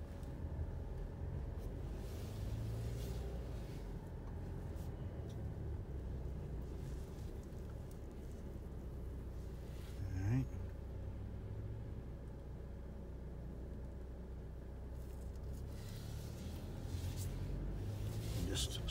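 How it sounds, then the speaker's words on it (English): Alfa Romeo Stelvio rolling slowly around a dealership lot, a steady low engine and road rumble with a faint brief noise near the middle, continuous and fairly close. "Let's go ahead and put it into drive again and take another quick short drive."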